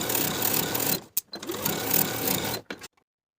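A sewing machine sews the pinned curve of a pants pocket with a 1/2 inch seam allowance, in two close, loud bursts of rapid stitching separated by a brief pause and ending in silence.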